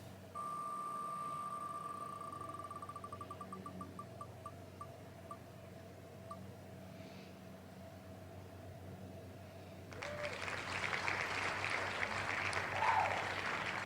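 Prize wheel spinning in a phone app, a rapid run of ticks that slows and spaces out until it stops, followed by a quiet pause and then a burst of celebratory noise.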